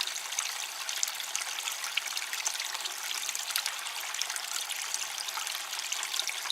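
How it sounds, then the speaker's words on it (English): Steady trickling and sloshing of water as a gold pan washes light sand off heavier material at an old North Carolina gold mine, a soft continuous stream without speech. "And all I'm doing is washing the blonde sands off the heavies."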